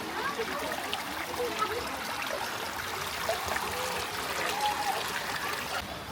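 Cold stream water flowing and trickling over rocks in Batanes, a steady close babble with small splashes running throughout.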